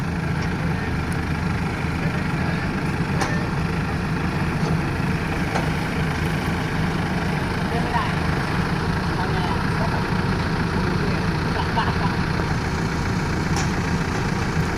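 A tractor engine idles steadily with a low, continuous rumble, nearby and unchanging throughout.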